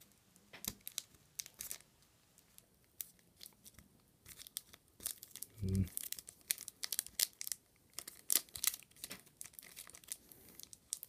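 Plastic wrapping of a small Pokémon card grab bag crinkling and tearing in short irregular bursts, close and fairly quiet, with brief pauses between rips.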